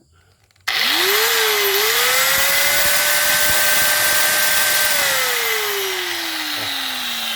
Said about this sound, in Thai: อันนี้เป็นลูกหนูนะครับ